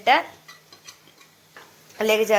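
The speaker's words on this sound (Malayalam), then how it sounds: "ഈ വഴണ്ട ഉള്ളിലേക്ക് ഇത്രയും മസാലാസ് ചേർത്ത് കൊടുത്ത് നന്നായിട്ട് മിക്സ് ചെയ്യുക" A spoon scrapes and taps in a pan as masala spices are stirred into sautéed onions for a squid roast, a few soft clicks between brief bits of talk at the start and end.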